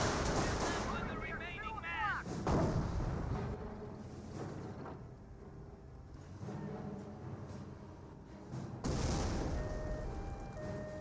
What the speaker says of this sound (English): More mortar hits there.